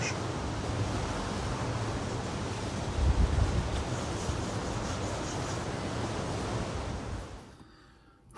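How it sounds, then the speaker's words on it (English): Constant rushing wash of waves and wind under a pier at Cromer beach, broad and steady, swelling briefly partway through before fading away at the end. "The breeze coming up the pier and pushing waves under, you can probably hear."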